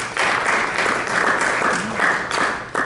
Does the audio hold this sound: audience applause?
yes